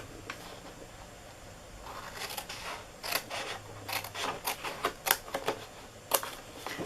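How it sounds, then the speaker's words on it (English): Large scissors snipping through paper to cut out a candle gift box template, giving a series of quiet, crisp cuts that quicken toward the end. "I'm going to get my big scissors out so I can cut a little bit straighter"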